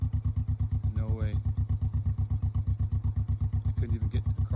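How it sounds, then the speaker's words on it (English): ATV engine running near a flooded creek, a steady, loud, pulsing idle with a rhythmic throb throughout and brief rises in between. "I just tried to cross that with the ATV."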